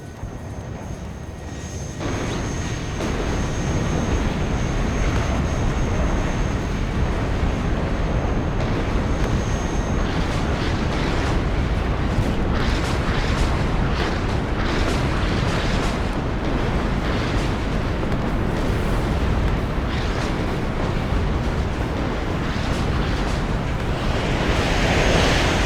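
Napalm rocket launcher strikes setting a city ablaze in the strategy game WARNO, a dense continuous roar of fire and explosions that builds quickly after a quiet start and stays loud and churning to the end.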